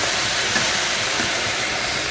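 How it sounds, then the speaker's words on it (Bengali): Okra frying in a pan gives off a steady, loud, dense sizzle and hiss that holds evenly, then cuts off abruptly. "আর এখন আমি ভেন্ডি ভাজি করছি।"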